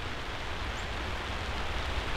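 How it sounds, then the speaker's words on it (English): Rain pours steadily onto a greenhouse roof, a dense, even hiss of countless drops with no breaks, moderately loud and constant throughout. "The rain's letting loose on us."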